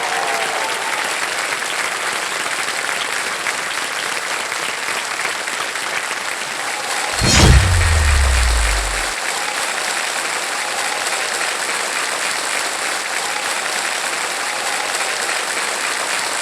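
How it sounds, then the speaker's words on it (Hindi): Loud studio audience applause welcoming a two-time gold medalist guest on a quiz show set, steady and continuous, with a brief deep boom partway through. "मैं चाहूंगा तालियों के साथ उनका स्वागत किया जाए।"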